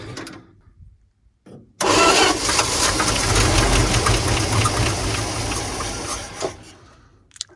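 An old Dodge D-600 truck engine, abandoned for 23 years and fitted with a freshly installed carburetor, cranks loudly and roughly for several seconds after a quiet pause, then cuts off.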